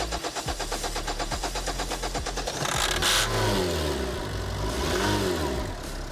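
A Renault Scenic with a common-rail fault, being started with brake cleaner, sputters at a rough idle, then catches and revs up loudly in two rising and falling surges close by, with no talk.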